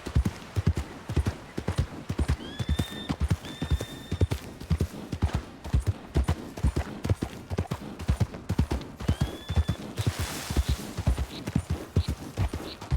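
Steady rhythmic clip-clop of horse hooves in Red Dead Redemption 2, close and continuous over gameplay, with occasional faint whinnies.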